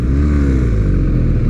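A BMW R1250R motorcycle engine runs close and loud with a deep, steady throbbing rumble, briefly revving.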